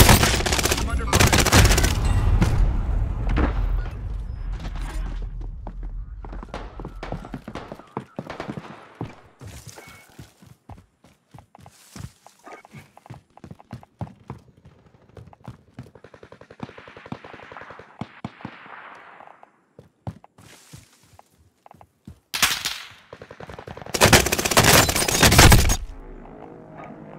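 Gunfire in a Call of Duty Warzone Caldera resurgence quads match: a heavy opening barrage, then long stretches of sharp, scattered single shots and short bursts, some near and some distant, ending in another loud flurry, with occasional talk.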